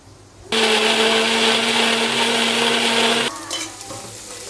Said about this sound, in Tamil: அதனால் தக்காளியை அரைச்சிக்கலாம்